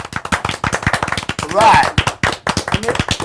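A studio audience on a soul music variety hour, backing a live soul band, gives loud, dense, fast applause throughout, with talk over the clapping.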